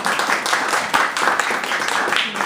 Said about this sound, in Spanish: Vamos a recibir con un fuerte aplauso a Lauri Fernández.